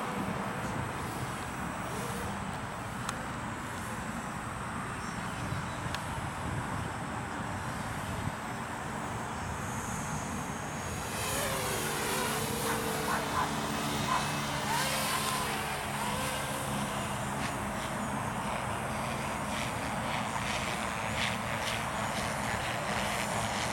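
A small helicopter flies nearby, its engine drone and rotor chop rising and growing more prominent midway through, blended with steady outdoor noise.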